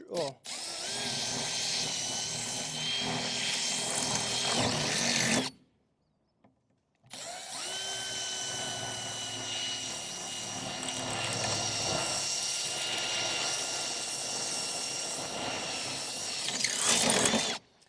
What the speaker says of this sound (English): so we're just drilling through 2 layers